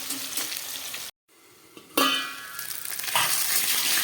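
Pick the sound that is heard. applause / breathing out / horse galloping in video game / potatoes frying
potatoes frying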